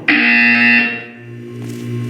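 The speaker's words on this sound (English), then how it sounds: "When you hear the buzzer, look down at the floor." A loud, harsh electronic buzzer from the video game Portal 2 sounds alone in one sustained blast, steady for most of a second before fading into a lower lingering hum.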